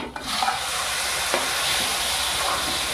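Chicken leg pieces fry and are stirred in gravy in a pan, making a steady, close sizzle with a few scraping stirs and no voices.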